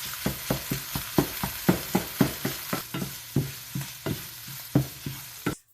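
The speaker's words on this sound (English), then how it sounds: "I'm going to fry with about 2 or 3 of those links and get that completely cooked through" Italian sausage links fry in a pan with a steady sizzle, broken by a regular series of scraping, stirring knocks from a utensil against the pan, close and moderately loud, stopping abruptly at the end.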